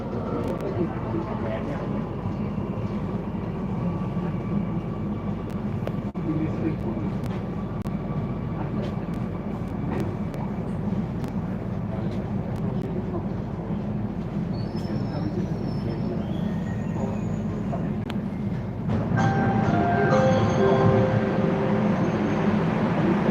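A Kochi Metro train rumbles between Ernakulam South and Tripunithura, a steady close interior drone of wheels and motors that grows louder and brighter near the end, with high tonal whines layered over it.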